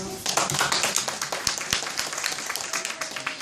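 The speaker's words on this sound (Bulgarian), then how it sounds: "Посрещнете с горещи аплодисменти учениците от първи Д клас." A school audience claps to welcome first grade students at a letters celebration, with uneven, scattered hand claps and sharp taps over a small crowd, close and lively with a few voices mixed in.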